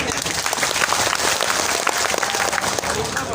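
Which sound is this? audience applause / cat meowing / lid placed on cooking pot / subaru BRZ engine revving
audience applause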